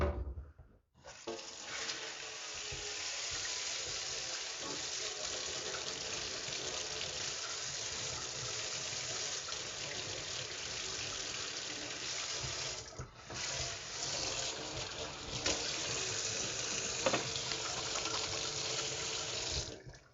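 Water running from a Moen kitchen faucet into a sink, a continuous loud rushing stream for nearly the whole stretch with brief dips as the flow shifts, no talk.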